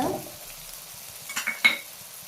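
A few quick scraping stirs of a spoon in a pan, faint and close, over a soft sizzle of frying ground coconut masala for an aubergine and potato curry.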